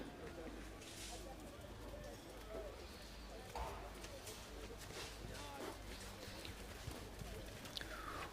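Horse hooves thudding in a campdraft arena at the Gold Buckle Campdraft Championship novice shoot out, faint irregular clip-clop under loud, continuous announcer talk and crowd ambience.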